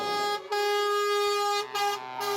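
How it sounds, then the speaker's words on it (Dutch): Vehicle horns blare in long, steady blasts, one after another with short gaps between them, loud and close. "Heel veel toeteren, onbeperkt toeteren."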